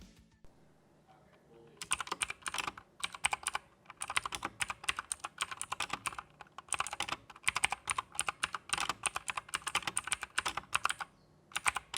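Rapid, clicky typing on a 1stPlayer DK5.0 mechanical keyboard with blue switches and double-shot ABS keycaps, close and crisp, with continuous keystrokes and a few brief pauses.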